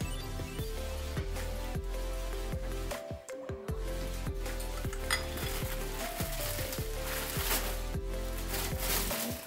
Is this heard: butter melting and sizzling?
yes